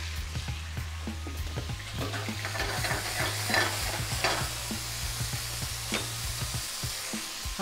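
Meat and onions fry in a pan with a loud, continuous sizzle, broken by frequent stirring scrapes and clicks and a low steady hum underneath, with no voices.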